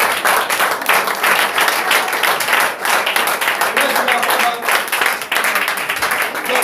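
A church congregation applauds a brother and his wife, sustained dense clapping and cheering filling the room loudly for several seconds, with voices mixed in.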